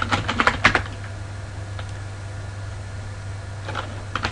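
Computer keyboard typing while a shell command is entered to restart a service: a quick burst of clustered keystrokes at the start, then a steady low fan hum with a few faint clicks near the end.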